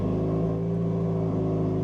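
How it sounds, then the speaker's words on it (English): A 2025 Chevrolet Colorado ZR2 engine idles right after a cold start on a foggy snow-camping morning, giving a loud, steady, even rumble that holds without change. "Cold start."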